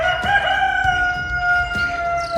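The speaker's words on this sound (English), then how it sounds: "if you heard that rooster crow, you know it's time to wake up and build something awesome" A Minecraft rooster crows clearly in a long, drawn-out call, with a few soft clucks underneath, close and fairly loud against a quiet background.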